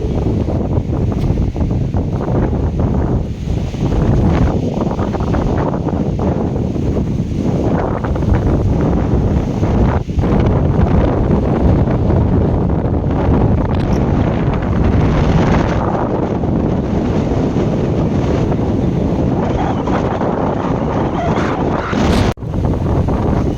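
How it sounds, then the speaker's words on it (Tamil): Strong storm wind blows across a seaside road near the coast at Thoothukudi, buffeting the microphone with loud, constant roaring gusts for the whole stretch and no talk. "கடலுக்கு அருகில் உள்ள ரோட்டில் வந்து ரொம்ப காற்று வீசுது"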